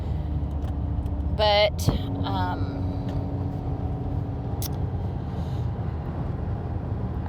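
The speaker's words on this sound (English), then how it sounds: "I'm driving in the car, so there will be background noise." Steady low engine and road rumble fills a car interior while driving, continuous and close throughout, with a person briefly speaking over it.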